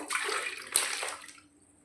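Tap water rinses the inside of a steel glass after scrubbing away tea stains, a brief close hissing splash with a sharp clink partway through before it trails off.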